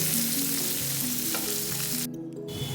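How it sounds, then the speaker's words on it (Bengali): Chopped onions frying over a medium flame, a close, steady sizzle with stirring scrapes and a faint underlying hum, briefly dipping quieter near the end before resuming. "এবার এতে দিয়ে দেবো কেটে রাখা পেঁয়াজ, দিয়ে মিডিয়াম ফ্লেমে এগুলোকে ভাজবো"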